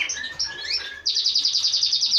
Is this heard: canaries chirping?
yes